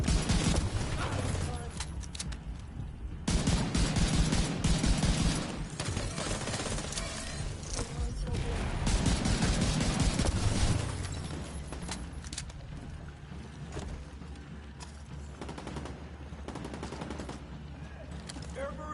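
Rapid bursts of automatic gunfire in The Division 2 ring out loud and close for about ten seconds, then thin into scattered shots under a steady low rumble.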